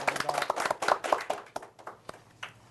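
An audience claps to welcome a guest at a Korean angel investors' association talk, with separate, uneven claps that thin out toward the end, close and fairly sharp.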